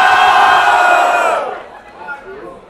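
Crowd at a Brazilian freestyle rap battle cheering and shouting loudly in a dense roar for a contestant's rhymes, then fading to scattered calls after about a second and a half.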